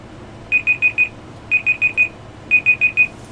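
An auction countdown timer alarm goes off in three bursts of four quick, bright electronic beeps, loud and close, with a short pause between bursts.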